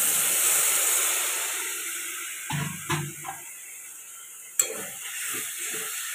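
Water poured into a pan of frying meat, a hissing sizzle that fades gradually, with a few clinks and scraping stirs of a utensil nearby.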